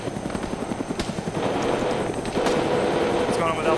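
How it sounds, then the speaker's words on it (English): A helicopter landing in the ArmA military game throbs with steady rotor chop that swells louder partway through, heard alongside faint game clatter and possible distant gunfire. "It's like helicopter's landing."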